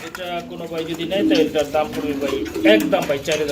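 Pigeons cooing at a pigeon sale, low repeated coos heard under someone talking loudly nearby throughout.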